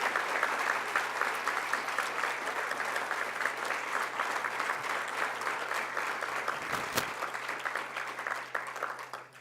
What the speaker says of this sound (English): Let's give all of our recipients a round of applause.